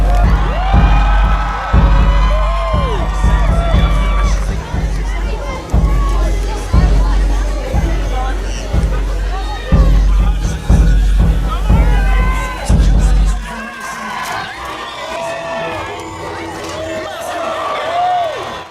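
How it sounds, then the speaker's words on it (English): A crowd at a jousting tournament with knights in 15th-century armour cheers and whoops for a knight, loud and close, with repeated bangs and thuds. It quiets to murmuring hubbub near the end. "So if you want Sir Justin Holland to win, give him a cheer!"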